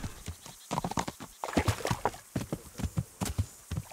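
Horse hooves clip-clop at a steady walking rhythm in the Kingdom Come Deliverance video game, close and clear with no talk over them.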